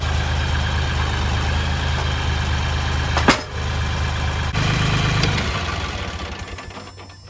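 Bobcat CT2040 compact tractor engine idling steadily up close, a low rumbling drone with a brief dip near the middle before it runs on and tapers toward the end as it winds down.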